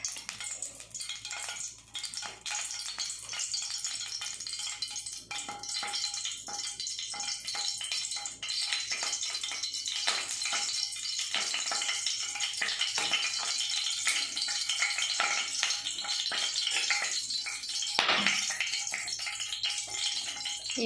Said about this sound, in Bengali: তেলের সাথে একটু ঘি দিয়ে দিচ্ছি